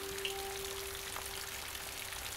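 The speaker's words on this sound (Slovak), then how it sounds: "stovky rokov pravidelne padá dážď na listy stromov v Dobrodskom pralese" Rain falling steadily on tree leaves in the Dobroč primeval forest in Slovakia, a soft continuous patter with scattered drips, faint and even throughout with no voices.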